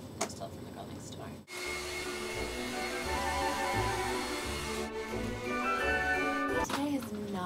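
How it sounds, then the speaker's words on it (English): Household vacuum cleaner switched on after a short pause, a loud steady whine and roar running for several seconds before cutting off near the end, with no speech over it. "I'm going to vacuum, which I never do."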